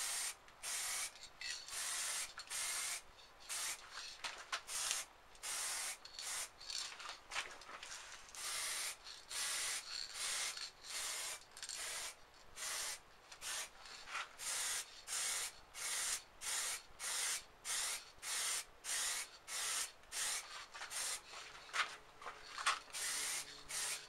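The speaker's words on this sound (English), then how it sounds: "I'm just going to spray it." A spray can lays down matte black paint in short, repeated bursts, each a loud close hiss broken by brief pauses in an irregular on-off rhythm.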